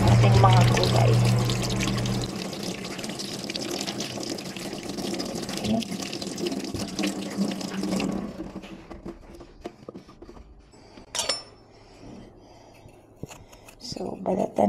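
Tap water runs steadily and close by while vegetables are washed for tuna balls, with a clear pouring rush for about eight seconds. The water then stops, leaving scattered clinks and light handling noises.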